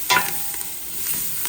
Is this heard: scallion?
yes